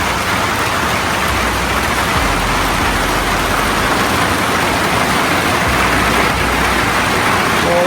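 Heavy rain pours steadily on a bike ride, a dense, constant hiss of drops filling the whole stretch, with a faint low rumble of passing cars underneath.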